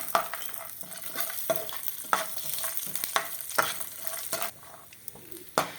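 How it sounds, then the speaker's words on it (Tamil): Cashews, pistachios, almonds and raisins fry in ghee for navratan kurma, producing a close, continuous crackling sizzle punctuated by regular sharp stirring scrapes and taps of a spoon in the pan. "இப்போ இந்த நெய்யில் போட்டு இதை கொஞ்சம் நல்லா ஃப்ரை பண்ணி அந்த குருமாவில் நம்ம சேர்த்துடலாம்"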